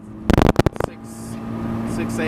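MINI Cooper S R53, a 200 hp track-prepared car, with a burst of sharp loud pulses early on, then the engine note humming and slowly rising, close by with a voice talking over it.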